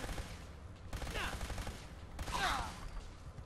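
Gunfire from a gun in Fallout 4, heard as a dense burst of shots in the middle distance, with game noise and faint voice-like sounds mixed in underneath.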